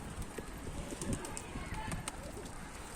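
A Bursa pigeon lands with brief wing flutters and soft cooing, close by, over rustling ambient noise and scattered knocks.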